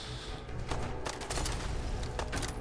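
Gunfire in the video game Fallout 4 on survival difficulty, several sharp shots cracking in quick succession with echoing booms, fairly loud against game background noise and no talk.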